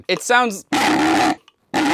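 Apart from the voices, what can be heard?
malfunctioning old Klaxon hand siren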